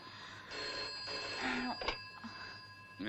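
An old-style telephone bell rings loudly in a quiet room, sounding in a bursting trill and stopping before the call is answered.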